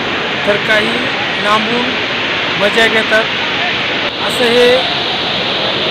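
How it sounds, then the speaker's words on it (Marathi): The Vasundhara waterfall roars steadily with a dense, even rush of falling water while crowds of tourists bathe beneath it, and someone talks over the constant noise throughout. "आता हा वसुंधरा फॉल आहे"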